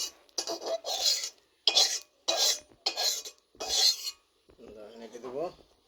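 Metal spoon stirring and scraping in a pan of hot oil, a series of short, loud rasping strokes with brief pauses between them, then a softer sizzle toward the end.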